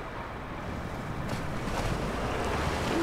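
A truck driving into water in the game SnowRunner: a steady wash of splashing, surging water with a low rumble underneath that builds slightly over three seconds, no talk.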